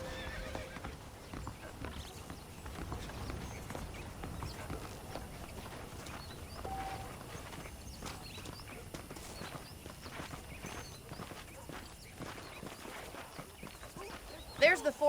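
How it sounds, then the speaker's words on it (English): Saddled horses in the Red Dead video game, with hoof clip-clop and a whinny mixed under game ambience and character speech, fairly faint throughout. "The horses are saddled up over here."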